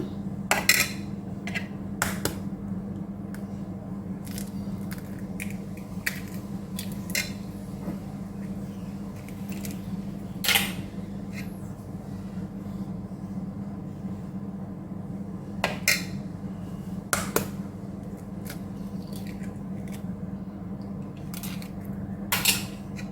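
Eggs cracked and poured into a simmering ridge gourd gravy give scattered sharp taps and clinks over a steady low cooking hum, with no talking.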